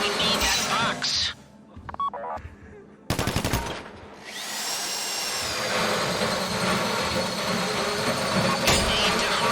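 A drill bores into a safe deposit box during a bank heist in GTA Online, a harsh, rapid mechanical rattle that stutters in bursts, then settles into a steady, loud grinding whine, with game music and effects around it.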